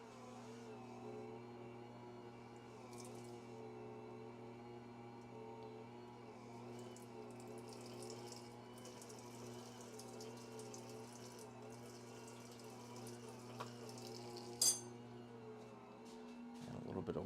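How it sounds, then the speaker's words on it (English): Water running steadily from a kitchen tap while making a meatball sub, a continuous faint stream over a steady hum, with a brief clatter near the end. "A little bit of water."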